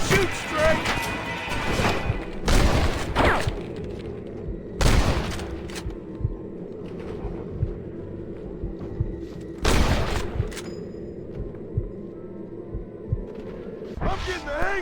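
Gunfire in a Red Dead Redemption shootout: loud, sharp shots and heavy blasts burst out in irregular clusters over a continuous rumbling game background, with shouting voices in between.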